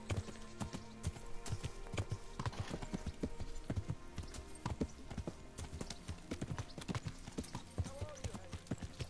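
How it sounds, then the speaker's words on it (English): Horse hooves clip-clop steadily and close in the video game Kingdom Come: Deliverance, an even walking rhythm that runs through the whole stretch over a bed of low ambient game sound. "And I walk my horse into their cart."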